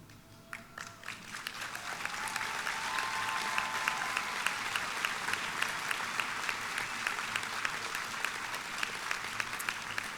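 Graduation ceremony audience applauding and cheering for Master of Science degree candidates, the clapping building from a few scattered claps into a dense, sustained roar of the crowd.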